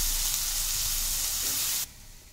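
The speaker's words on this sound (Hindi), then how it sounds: "जब तक हमारा प्याज भुन रहा है" Chopped onions fry in oil in a pan for a paste, a steady close bright sizzle and hiss that cuts off abruptly near the end, with no talking.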